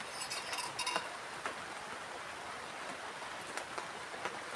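Steady rain falls at a night campsite in a soft, even hiss, with scattered faint drips and ticks landing on nearby surfaces, moderately distant and continuous throughout, with no voices.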